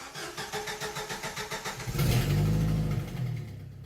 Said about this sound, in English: the telltale puff puff sound of a exhaust manifold gasket that's blown